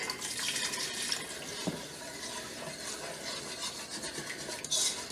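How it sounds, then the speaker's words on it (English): A whisk stirs a chicken tortilla soup mixture in a pot to break up lumps, giving a continuous wet swishing and clinking of metal against the pan, near and moderately loud, with no speech. "I'm using a whisk for this just because it's easier"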